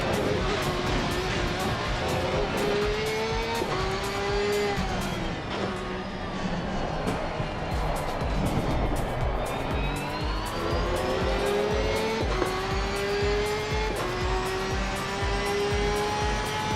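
A race car engine in Assetto Corsa Competizione revs repeatedly in rising and falling sweeps, loud and close, with a low rumbling idle between pulls and voices over it.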